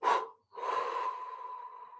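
A short sharp breath followed by a long, deep exhale during a seated breathing exercise, close and alone.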